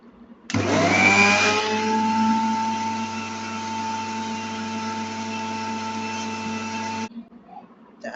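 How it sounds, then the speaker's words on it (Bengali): An electric blender whirs through homemade mayonnaise made with soybean oil, starting with a loud surge and then holding a steady motor drone for about six seconds before cutting off, close by. "এবার এটাকে আরেকবার ব্লেন্ড করে নিচ্ছি।"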